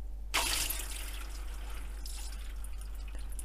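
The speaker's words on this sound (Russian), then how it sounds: "Чтобы всю воду хорошо слить, воспользуюсь еще вот таким ситом." Rinsed feed wheat drains through a sieve as water rushes out in a sudden splashing pour, then settles into a steady, close trickle and patter with no voices.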